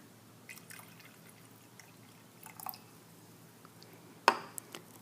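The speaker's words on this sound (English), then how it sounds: "So I'm going to pour out some hot water." Hot water poured out in a pressure and temperature lab gives faint scattered drips and trickles, then one sharper splash near the end, with soft small clatters and no voices.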